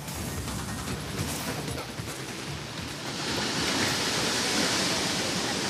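Huge sea waves roar along the Karavali coast of Karnataka during heavy monsoon rain, a broad continuous wash of surf that swells louder toward the end, with no voices.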